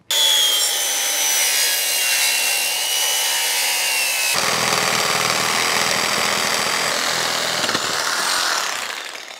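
Saw cutting a couple of feet off a heavy wooden beam for garage framing, a steady loud abrasive grind that runs continuously for several seconds, changing tone partway through as the cut progresses, with no talking.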